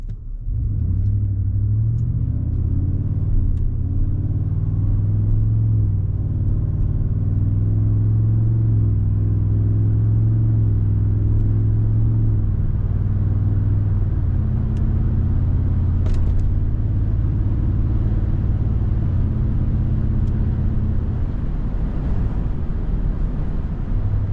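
A 2023 Ford F-150 with the 5.0 V8 and Flowmaster FlowFX exhaust pulls away from a stoplight in normal acceleration, a steady loud low rumble with harmonic tones rising gently in pitch over about twenty seconds, heard from inside the cab.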